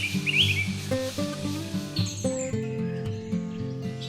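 A bird endemic to Chapada do Araripe in Ceará, Brazil, gives bright chirping calls over steady musical tones, the notes short and repeated at moderate loudness.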